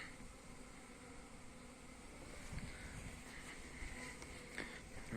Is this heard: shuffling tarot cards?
no